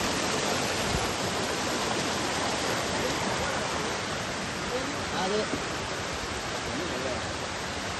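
Penchalakona waterfall rushes over rocks in a dense, unbroken roar of falling water. The sound is loud and close, and a faint voice surfaces briefly near the middle.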